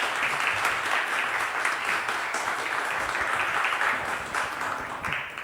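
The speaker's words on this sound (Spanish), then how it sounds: "Démosle un fuerte aplauso a don Humberto, a Lidia igual." Sustained applause from an audience honoring Humberto at a talk, steady and fairly loud dense clapping throughout with no voices over it.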